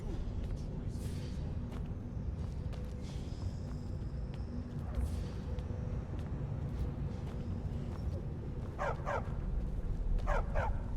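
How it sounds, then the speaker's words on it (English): Dogs in the Skyrim video game barking in short doubled yelps near the end, over a dense, steady game soundscape of ambient rumble and background noise. "Don't mind the dogs. They get anxious when they haven't had dinner."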